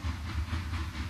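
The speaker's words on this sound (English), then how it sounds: "Oh, I guess the train's just passed." A train rumbling past in the surreal art game SURREALISTa, a steady low hiss and rolling drone close by for about a second, with no talking.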